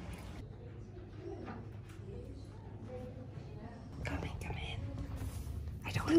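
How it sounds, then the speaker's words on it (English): Birds coo and chirp softly inside a quiet riad courtyard in Marrakesh, with low cooing and scattered calls beneath hushed, whispered talk. "You can even hear the birds chirping in the morning"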